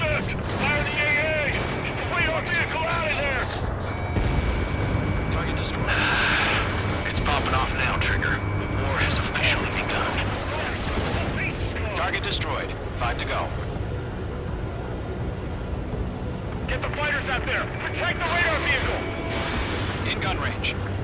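Anti-aircraft fire and explosions in Ace Combat 7 on PS4 Pro: a dense, continuous barrage of booms, rumbling blasts and engine roar, loud throughout, with radio voices talking over the battle.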